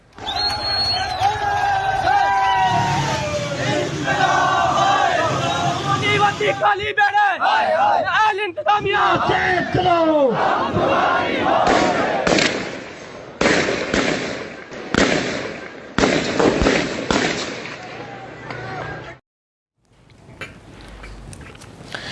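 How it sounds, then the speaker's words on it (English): At a protest in Pakistan-administered Kashmir, a crowd shouts and wails as security forces fire water cannons and tear gas, then a series of sharp, loud bangs and blasts cut through, with voices throughout. "They fired water cannons and tear gas at the protesters."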